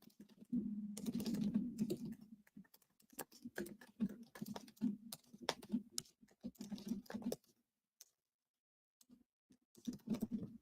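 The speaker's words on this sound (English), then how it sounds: "Everyone just hold, please, while I do some typing." Rapid typing on a computer keyboard, heard up close as bursts of clicking keystrokes with short pauses and a brief silence before the tapping resumes; no speech.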